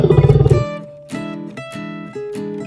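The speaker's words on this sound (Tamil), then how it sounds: "இதுதான் காட்டுக்கு ராஜா சிங்கம்." Lion roar in a children's wild-animal lesson: a loud, rough roar opens, followed by three separate lower rumbling growls, each a sustained call with a gap between them, heard alone without talk.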